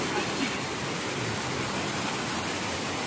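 The Bantimurung waterfall roars as a dense, unbroken broadband wash, steady and close, with no pauses or distinct events across the few seconds.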